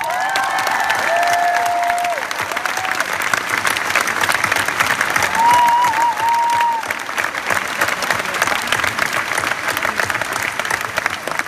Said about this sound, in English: Please put your hands together for Mr.